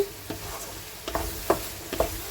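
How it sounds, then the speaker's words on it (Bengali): A spice mix with a little sugar being sautéed in a pan, with a low sizzle and several distinct scraping stirs about half a second apart. No one speaks. "মশলাটা কিন্তু বিশাল সুন্দর করে কষিয়ে নিয়েছি"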